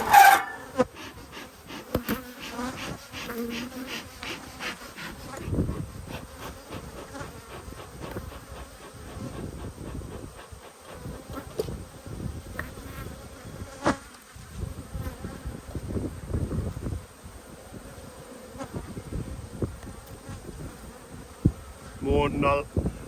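Bees buzz around an open hive during an inspection of a yellow and black hive, a steady close swarm drone with individual bees passing near and some faint handling knocks, continuing throughout.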